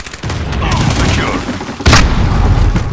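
Gunfire and battle noise fill a Call of Duty Modern Warfare match until a grenade explosion bursts out, a sudden loud broadband boom with a rumbling tail. A player's voice is mixed in with the game sounds.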